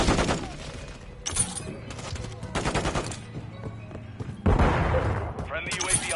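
Bursts of automatic gunfire from a sentry gun and weapons in a Call of Duty multiplayer match, loud rapid volleys in several separate stretches with thuds between.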